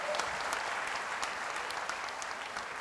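A church congregation applauds, a dense, even patter of many hands clapping heard at moderate distance without a break.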